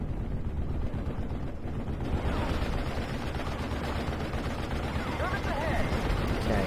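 Faint, steady battlefield gunfire with scattered distant thuds, like mortar rounds, from a Normandy 1944 hedgerow fight in Steel Division: Normandy 44, low in level and continuous throughout.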